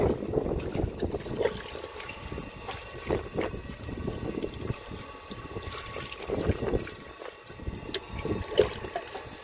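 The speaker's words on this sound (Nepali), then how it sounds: "पानी उराउँछ" Water poured out during a goat butchering in a village, a steady rough splashing that runs throughout, mixed with wind buffeting the microphone.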